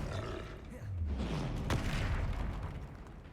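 A Confringo fire spell explodes in Hogwarts Legacy combat: a booming, roaring burst with a sharp crack near the middle, set against game noise and a voice.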